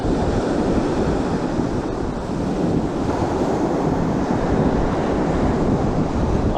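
Ocean surf breaks steadily on a fishing beach, a loud continuous wash of waves mixed with wind buffeting the microphone, with no talk over it.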